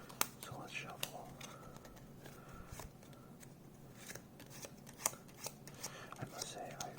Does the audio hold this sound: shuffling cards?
yes